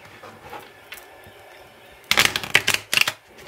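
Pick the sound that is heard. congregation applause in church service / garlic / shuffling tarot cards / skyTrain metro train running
shuffling tarot cards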